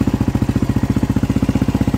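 A Yamaha WR250R motorcycle engine idles just after switching on, with a close, steady, rapid thumping pulse.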